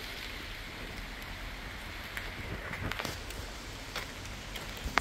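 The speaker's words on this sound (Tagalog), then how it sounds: "So it's raining now." Steady rain falls on foliage in an island forest of old-growth trees, a dense continuous patter with scattered louder drops and light rustle, close and even throughout with no voices.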